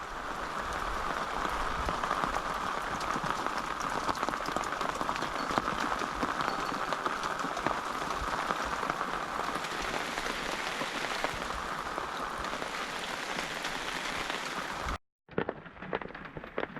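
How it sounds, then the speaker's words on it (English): Heavy rain drums steadily on the awning of a Toyota Tacoma at a campsite, a dense, continuous patter that stays loud throughout before a brief cut near the end, with no talking. "it is raining even harder"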